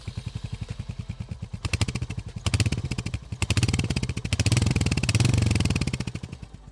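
A Royal Enfield Hunter 350 motorcycle engine idles with a steady, thumping exhaust pulse, briefly revving louder a few times before settling back.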